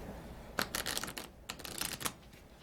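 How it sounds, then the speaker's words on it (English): Stiff tabletop game cards being shuffled at close range, quick repeated riffling bursts in an uneven rhythm, fairly quiet with no voices. "If cards are a little more bendy, I find them easier to kind of shuffle."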